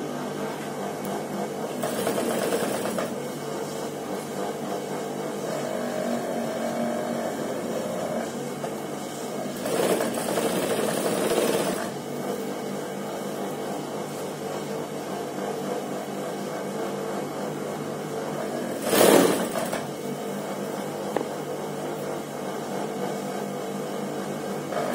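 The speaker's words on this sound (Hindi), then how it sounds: "आराम आराम से सिलाई लगाते हुए आए" Sewing machine stitching thin lace onto the hem of a trouser leg, a steady continuous whir with a few brief louder bursts and no talk.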